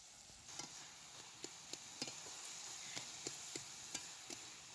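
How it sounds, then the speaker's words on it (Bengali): Banana flower (mocha) stirred steadily in a pan as it cooks down, with a quiet bed of sizzle and about a dozen sharp spoon scrapes and taps at an uneven rhythm. "মোচাটিকে কিন্তু অনবরতই নাড়তে হবে, নয় কিন্তু মোচাটি তলায় লেগে যেতে পারে"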